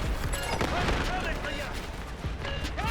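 Gunfire in the shooter game Delta Force crackles in rapid bursts and scattered shots across the whole stretch, loud and dense, with a voice talking briefly amid the shooting.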